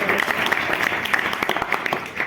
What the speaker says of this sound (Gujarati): એને આપણે ખૂબ તાળીઓથી વધાવી